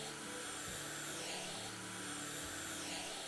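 A vacuum cleaner in the House Flipper video game drones on steadily, a low, constant motor hum with faint shifting tones, quiet and alone with no talk.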